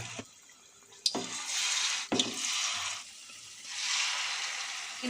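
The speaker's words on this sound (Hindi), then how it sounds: "इस तरह से डिप करने के बाद देखिए मैं इसे तेल में धीरे धीरे डाल देती हूँ" Batter-dipped paneer slipped into hot oil, each piece setting off a sharp crackle that swells into a broad, bubbling sizzle, with a second drop about a second later and the frying continuing close and moderately loud.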